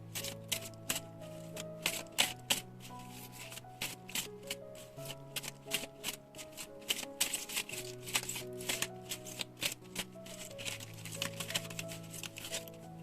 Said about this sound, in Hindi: कार्ड्स लेते हैं, इसमें से हम 5 कार्ड लेने वाले हैं।